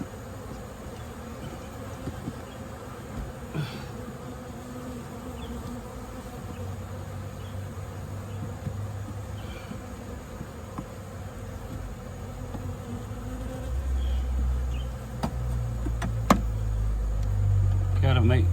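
Honey bees buzzing around nuc hives while they are being inspected, a steady soft drone throughout with low rumbling handling noise and vehicle-like hum, growing louder near the end.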